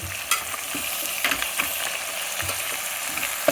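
Goat trotters frying in oil make a close, steady sizzle, broken by scraping and clattering stirs against the pan, with no one talking.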